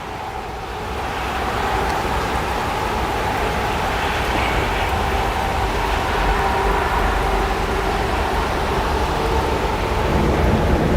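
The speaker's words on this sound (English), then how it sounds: "It's still raining hard here, and it's about to pick up and get worse." Heavy rain pours steadily during a severe thunderstorm in Stockbridge, Georgia, a dense, loud, continuous wash that holds a constant level for the whole stretch with a low rumble underneath and no voices.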